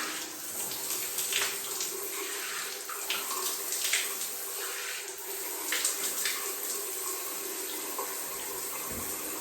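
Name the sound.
water running while rinsing a towel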